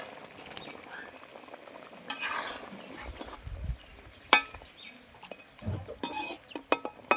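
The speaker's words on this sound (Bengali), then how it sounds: "এবার ভাজা মাছগুলো দিয়ে দেবো" Fried river snakehead fish being stirred into a kalia curry in a pan, scraping spoon strokes and clinks over a quiet simmering sizzle, with irregular louder knocks toward the end; no one speaks.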